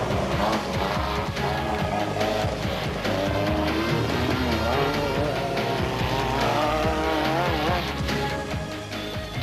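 A rally race car in the 1990 Settler 500 speeds past on a gravel stage, its engine roaring loud and steady with revving and shifting pitch throughout, no talk over it.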